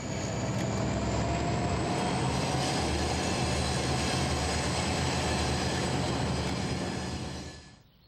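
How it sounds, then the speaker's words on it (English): A freight train rumbles steadily past a large restored station building in the Kansas City area, a loud continuous roar with droning tones that fades at the very end. "Most of the time, you will see only freight trains rumbling past this monumental building"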